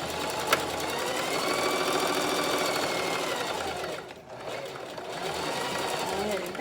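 A sewing machine running a double line of stitching, its fast steady mechanical whir continuing almost unbroken, briefly easing off midway before picking up again, with a soft voice underneath.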